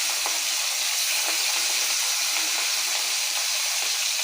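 Rohu fish sizzles steadily in hot oil, a continuous bright hiss with faint pops throughout and no talking.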